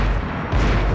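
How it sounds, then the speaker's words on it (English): Distant gunfire from Max Payne 3 booms in low, dense bursts, a rumbling barrage of long-range shots that rolls on steadily through the moment with no voices. "shots came from long range"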